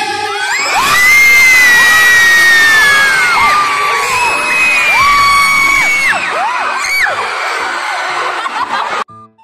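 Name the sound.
students shouting as their school's name is called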